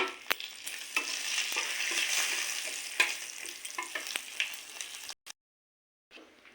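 Whole cumin seeds, dried red chillies and bay leaf frying in hot oil, a bright continuous crackling sizzle with scattered pops and stirring clicks, close up, ending abruptly in silence before a brief return.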